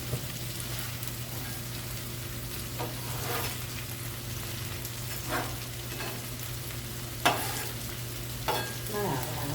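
Fatback grease sizzles on a Blackstone griddle, a steady loud frying hiss with a low hum underneath and occasional scraping stirs and clinks, no voices.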